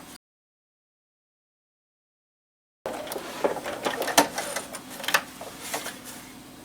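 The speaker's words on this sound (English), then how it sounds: "I'm going to top stitch close to the edge around the same edges that I just stitched." A sewing machine top stitches along the edges of a fabric Kindle sleeve. Rapid light mechanical ticking starts after a stretch of silence and stays fairly faint and close.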